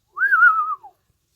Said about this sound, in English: Yes, I whistle.